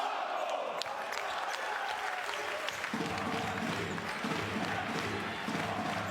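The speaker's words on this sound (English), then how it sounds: "Look at the noise in this crowd." A basketball arena crowd during a European Basketball Champions League night, with a broad, sustained roar of clapping and cheering that swells and holds at a loud level from start to finish.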